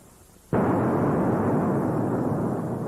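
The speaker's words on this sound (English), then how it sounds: "Sounded like an explosion." A sudden blast erupts after a quiet moment and rolls on as a loud, sustained roar that barely fades, with no voices present.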